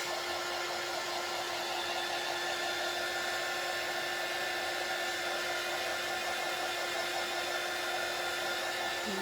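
A hair dryer blows steadily on fresh paint on a wooden sunflower birdhouse stand, a constant loud whooshing hum with no break.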